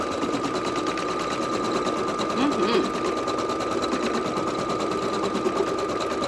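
Brother Innov'is 1600E sewing machine stitching an appliqué outline, a fast steady mechanical rattle close by, running continuously while a voice talks in the background.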